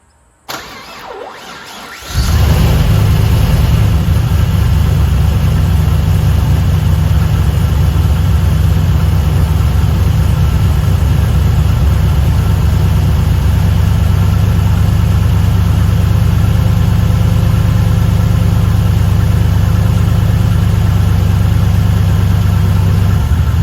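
A turbocharged Gen 2 LS engine cranks and fires for its first startup after quiet, then settles into a loud, steady rumbling idle that holds unchanged for about twenty seconds.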